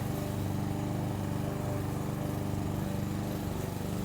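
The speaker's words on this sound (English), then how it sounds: "And my husband's mowing, so you can hear the mower" Lawn mower running steadily in a Florida yard, a continuous low engine drone heard from some distance, with no voices over it.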